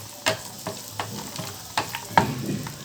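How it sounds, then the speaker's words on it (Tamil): Ingredients for a Kerala pulao frying in a pan while being stirred, soft sizzling broken by several distinct scraping stir strokes at irregular intervals, close-up with no speech. "இது கொஞ்சம் வறுபட்டதும் ஆஃப் பண்ணிடலாம்."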